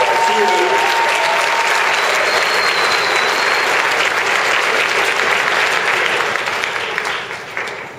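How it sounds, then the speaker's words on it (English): An audience gives a speaker a loud, sustained round of applause that stays thick and even before tapering off at the very end. "Give that man a round of applause"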